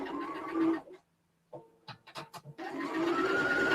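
Sewing machine stitching a quarter-inch seam on a quilt block, a close, buzzing mechanical whir that starts, stops briefly, stutters in short bursts, then runs steadily again.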